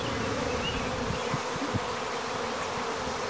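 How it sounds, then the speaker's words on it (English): A honeybee swarm returns to the hive with a virgin queen and drones after a mating flight, producing a dense, continuous buzzing hum of many bees close by, steady in level throughout. "That's what a mating swarm looks like when they come back."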